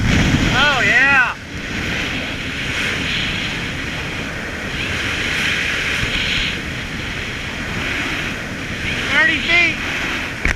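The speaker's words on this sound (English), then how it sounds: "We're cruising at 35 miles an hour." A 2010 Key West 196 Bay Reef boat cruises at about 35 mph, with steady engine and hull rumble mixed with strong wind buffeting and rushing water. A couple of brief voices come through near the start and end.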